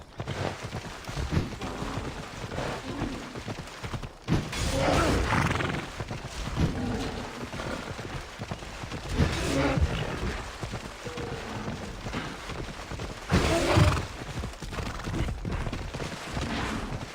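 A horse in the video game Assassin's Creed Odyssey neighs and its hooves clatter amid loud, busy game action, with a couple of stronger whinnying bursts rising over the continuous battle noise.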